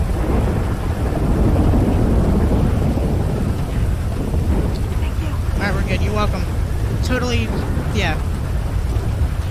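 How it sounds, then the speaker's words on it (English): Heavy rain and rumbling thunder in the GTA 5 game fill the whole stretch as a loud, steady wash, with voices talking over the storm toward the end. "I hope this rain and thunder stops, because I can't hear over myself or you."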